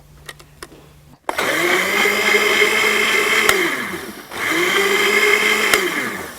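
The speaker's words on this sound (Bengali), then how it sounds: "এখন এটাকে ব্লেন্ড করে নেব।" An electric blender whirs loudly while blending a coconut water drink seasoned with a pinch of black salt, starting abruptly after a few light clicks, running steadily, dipping briefly around four seconds, then revving again.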